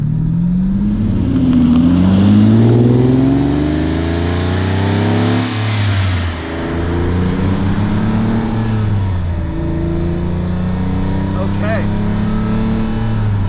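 A 1988 Lamborghini Countach being driven, its engine droning steadily and rising and falling in pitch as it revs through gears, close and loud throughout, with someone talking over it.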